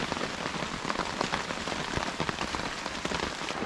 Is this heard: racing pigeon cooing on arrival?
no